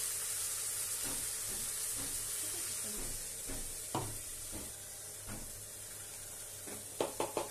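Ginger garlic paste hits a hot pan for Bengali ghugni and fries with a continuous close sizzle, punctuated by scraping stirs and a few sharp clinks of a spoon against the pan.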